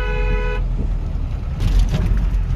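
A car horn toots briefly at close range on a road near Ajmer, then passing traffic and engine rumble continue loudly.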